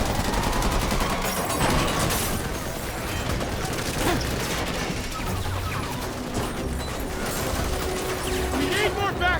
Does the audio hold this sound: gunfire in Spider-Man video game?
yes